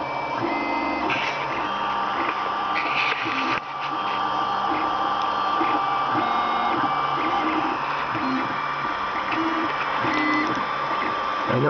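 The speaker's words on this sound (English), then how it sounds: "this could be a printer printing filament onto a moving bed without any aftermarket gizmos or gadgets" An Ender 3 3D printer, stock with no upgrades, lays filament onto its moving bed, giving a steady mechanical whir with stepper-motor tones that shift pitch in short repeating patterns, close and continuous with no talk.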